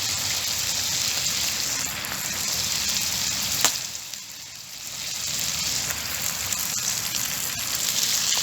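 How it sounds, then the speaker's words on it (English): Bacon, egg and mushrooms frying together in one pan at a winter wild camp, a steady close crackling sizzle that runs throughout, with a faint tap partway through; no voices. "I've got bacon, egg and mushrooms here, all in the same pan, which end up like an omelette."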